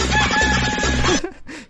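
A rooster's cock-a-doodle-doo crow played as a sound effect, loud and close, one long sustained call that breaks off, followed by faint short fragments.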